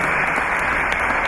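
A crowd welcomes the relic of Saint Teresa of Jesus in Rio with loud, continuous applause, a dense even wash of clapping heard alone for a brief moment.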